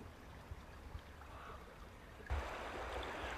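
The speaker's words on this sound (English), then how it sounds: "I'm out in the middle of the river now" River water flowing around an angler wading midstream, a soft continuous rush and trickle with small splashes, quiet and close, growing slightly louder toward the end.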